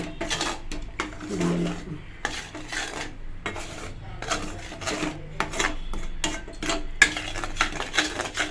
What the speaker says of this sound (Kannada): ಗಡ್ಡೆ ಕಟ್ಕೊಳ್ಬಾರ್ದು ಹುಷಾರ ಕಲಿಸ್ಬೇಕು